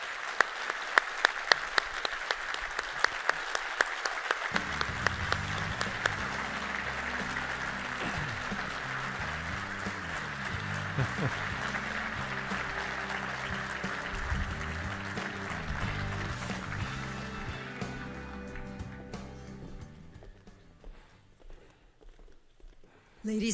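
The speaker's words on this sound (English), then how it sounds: "please join me in a round of applause for our distinguished and incredibly special" An audience applauds a retired FDNY lieutenant at a 9/11 twenty-year commemoration panel, with steady sustained clapping from a large crowd that runs for about twenty seconds before gradually tapering off.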